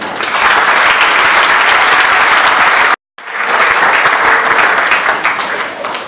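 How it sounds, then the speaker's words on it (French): An audience applauds loudly and steadily, broken by a brief silent cut midway, then the clapping resumes and continues with the same even density. "applaudissements."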